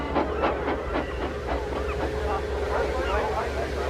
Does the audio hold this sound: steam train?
yes